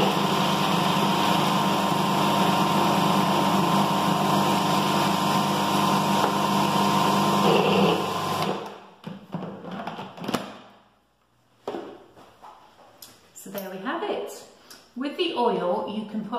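A food processor motor whirs loudly and steadily while blending carrot top pesto, then stops, leaving clatter and a person talking nearby.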